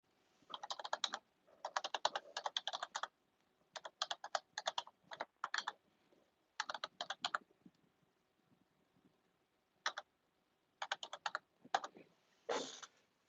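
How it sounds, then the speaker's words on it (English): Website address typed on a computer keyboard: close, crisp key clicks in quick bursts separated by short pauses, with a louder final keystroke near the end. "I'm going to type it in right here."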